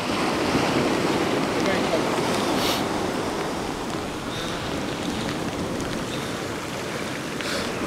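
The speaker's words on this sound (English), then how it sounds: "It is now raining." Steady rain and gusting wind on an exposed beach during fossil hunting, with surf and microphone wind buffeting forming a loud, continuous wash that holds fairly constant and eases slightly toward the end.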